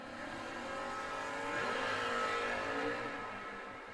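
Drag racing cars roar down the strip at a Verge Quick Outlaw Series event in Bowling Green, one a Platt and Payne tribute car styled after the 1968-69 Ford drag team; a loud, steady engine drone swells midway and fades, no talk.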